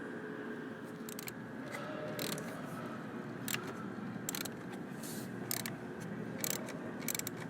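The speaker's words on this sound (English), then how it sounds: "the special tool that I use is a 1/4 inch flex head ratchet" A 1/4 inch flex head ratchet with vice grips locked on the handle turns a bolt on a car heater hose job, giving repeated short clicking bursts over a steady low background hum.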